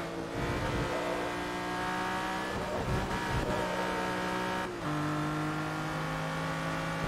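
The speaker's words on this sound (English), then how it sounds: "this car's upgraded, Xeno, that's why it doesn't sound right, but it's not upgraded that much." An upgraded Lamborghini V12 in the racing game Forza Motorsport 3 revs and whines steadily, its engine tone shifting pitch through gear changes, with a brief dip near the end before climbing again, no voices over it.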